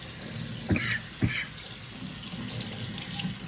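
Running tap water pours steadily into a sink, with a couple of brief splashy bursts as Calphalon cookware is rinsed under the stream.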